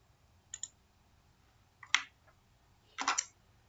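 A computer mouse clicks during CAD modelling work, three separate short, faint clicks spread apart, some doubled, in a quiet room.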